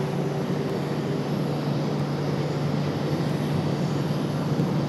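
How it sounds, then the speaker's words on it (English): Boeing 777 with Rolls-Royce Trent engines at Raleigh-Durham airport spooling up, a steady broadband jet roar with a low droning hum holding throughout, moderately loud and unbroken, no voices. "So we should get a good shot of the 777 out of here back to London in just a few minutes. As they fire up those Trents."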